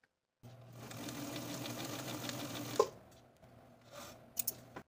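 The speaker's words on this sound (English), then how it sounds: "going to sew a line of stitching about an inch in length below each of those four notches." A sewing machine stitches a short line through tote bag fabric near a seam allowance, running steadily for about two and a half seconds before stopping, followed by a few faint handling clicks.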